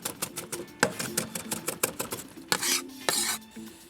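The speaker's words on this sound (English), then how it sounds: "I love using a big Chinese cleaver for this because you can kind of get so much chopping." Rapid, irregular chopping knocks of a big Chinese cleaver on a cutting board while mincing, sharp clacks in quick bursts with a few scraping sounds.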